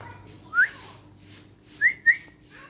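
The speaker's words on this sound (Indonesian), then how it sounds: "Saya akan coba tes dengan siulan" A person whistles to test the response of a caged cucak rowo songbird outdoors: one rising whistled note, then a brief pause, then two short upward whistles close by over a quiet background hum.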